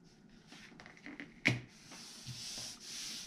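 A chipboard piece, 3 by 9 inches, pressed onto adhesive tape during box making gives one sharp, close tap with a brief rustle of handling around it, set against quiet room noise.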